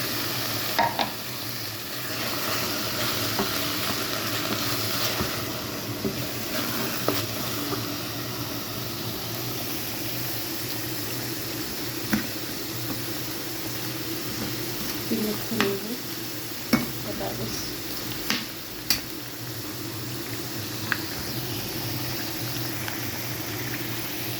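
Meat and tomato frying in a pan while being stirred, a continuous loud sizzle with scattered scrapes and clicks of the spoon against the pan, close.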